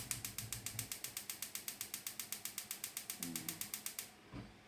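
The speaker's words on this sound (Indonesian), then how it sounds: "Sekarang kita akan nyalakan kompornya ya." A gas stove is switched on for cooking beef stew, its igniter giving a steady run of rapid, evenly spaced clicks for about four seconds before falling quiet, close and fairly soft.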